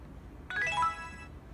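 Ringtone of a push-to-talk dispatcher call, a single short bright electronic chime with a quick rising figure, heard alone over a faint low background hum.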